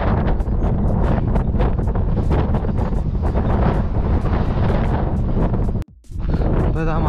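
Strong mountain wind roars and buffets the microphone on a cycling trip through cloudy, snowy terrain, a loud continuous rush that briefly cuts out near the end, with someone talking underneath.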